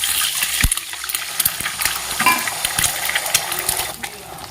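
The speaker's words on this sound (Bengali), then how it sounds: "আবার খানিকটা তেল দিয়ে দিয়েছি। এবার এতে ভেজে নিচ্ছি দুটো ডিম।" Two eggs fry in hot oil in a pan, giving a steady bright sizzle and crackle with scattered pops and small knocks throughout, and no talking.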